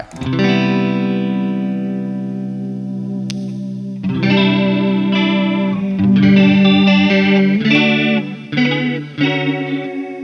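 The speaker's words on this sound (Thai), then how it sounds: "มีรีเวิร์บ คอรัสให้นะฮะ เห็นไหมรีเวิร์บคอรัสเรากดเข้าไป" Electric guitar played through the TH-U Overloud mobile amp app with reverb and chorus effects, a long shimmering sustained chord followed by several strummed chords, each ringing out with lush modulated tails.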